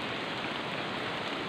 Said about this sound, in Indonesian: Ini posisinya lagi hujan ya, ini lagi hujan.